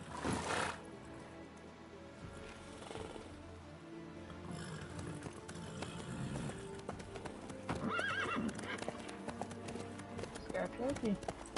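Horse hooves clip-clop at a steady gallop beneath continuous game dialogue in The Witcher 3, with a horse neighing and whinnying near the end, fairly loud and close throughout.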